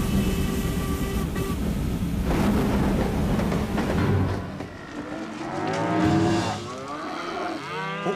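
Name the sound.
wild cow mooing in cartoon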